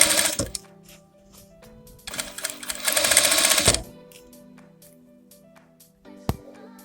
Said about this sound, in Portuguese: E eu continuo a costurar. Sempre um pezinho de máquina.